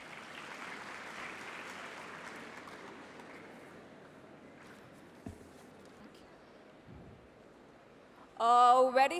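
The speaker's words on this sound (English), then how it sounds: "Please give a huge round of applause." Audience applause at a national conference of CA students, a steady broadband clatter of clapping that gradually thins out and fades, followed by a brief loud burst near the end.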